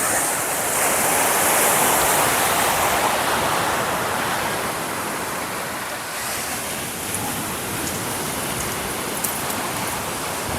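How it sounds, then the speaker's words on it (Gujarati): Ocean waves wash onto a beach on Mombasa's south coast in Kenya, a loud, steady broadband roar of surf that eases slightly partway through, heard alone without voices. "અત્યારે મોજાની પણ આવ વધારે આવી રહી છે"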